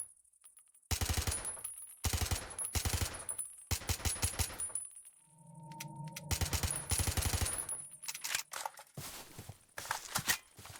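A silenced modern AK with an extended magazine fires in the Minecraft Superb Warfare mod, sending rapid bursts of loud, clipped shots separated by brief gaps, with a mechanical reload sound in the middle.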